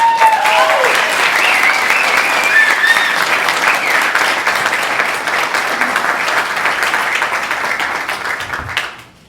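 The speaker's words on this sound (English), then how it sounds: "Let's have a round of applause for Grace Quay." Audience at a school gala and 20th anniversary celebration bursts into sustained loud applause, a dense wash of clapping from a large indoor crowd that holds steady for several seconds before fading out abruptly.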